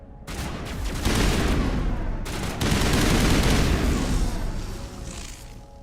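Assault rifle fire in a video game, loud sustained automatic bursts with a short break before a second long volley, close and dense, rolling with booming echoes.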